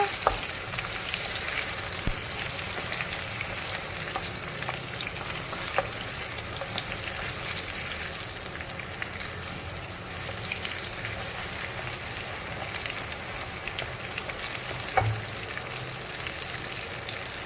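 Banana pieces frying in reused, slightly sugary cooking oil, a steady dense sizzle and crackle running throughout with occasional small pops, close and even in level.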